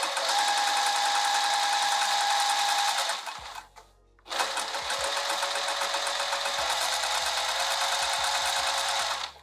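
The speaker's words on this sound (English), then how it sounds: "And I'm sewing up here at this fold." A sewing machine stitches a fold on a lined dress bodice with a fast, loud, steady whir, pausing briefly midway before running on again, no voices.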